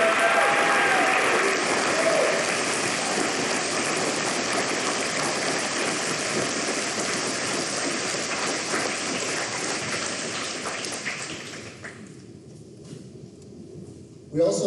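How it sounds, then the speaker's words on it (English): Sustained applause from a large audience for graduates at a 2022 SCHS graduation ceremony, a dense, even wash of clapping that carries on steadily before tapering off sharply near the end. "Let's give them a round of applause."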